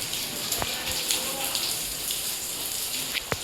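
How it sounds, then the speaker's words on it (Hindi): Steady, dense hiss of heavy rain in a sudden downpour during a storm in Porbandar, continuous throughout with a few sharper drips and splashes close by. "सीधी अचानक से बारिश आने लगी"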